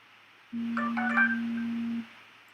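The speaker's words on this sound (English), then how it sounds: "That is my phone." A mobile phone rings indoors with a steady electronic tone, about one and a half seconds, clear and close.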